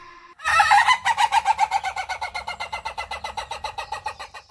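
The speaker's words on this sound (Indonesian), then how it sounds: "malah diberakin ayam" A chicken clucks loudly and close, a rapid rhythmic series of about two dozen clucks that slowly fade, with no talk.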